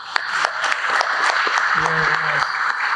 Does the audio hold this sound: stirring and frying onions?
no